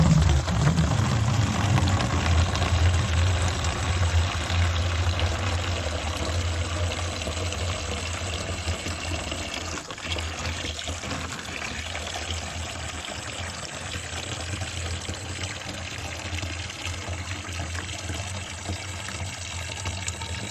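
Water pours and splashes steadily and continuously nearby while bathing outdoors with cold spring water, a dense rushing flow with no talk over it.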